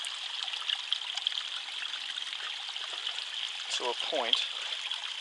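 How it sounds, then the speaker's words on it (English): Water runs steadily down an easement behind houses as a continuous hissing stream, with someone talking briefly over it near the end. "as you can see, the water comes down the back of number 5"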